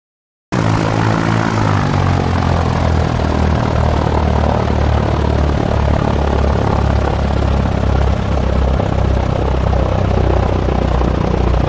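A propeller plane's engine drones in the flight simulator X-Plane 11 during a crosswind landing approach, a loud, steady buzzing roar with a faint whine that holds unbroken after a brief silent start.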